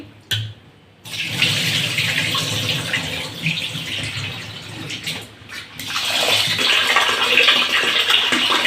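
Rice being rinsed in water to prepare idli batter, with steady running and splashing water from a tap filling a vessel, continuous and close, with a brief pause near the start.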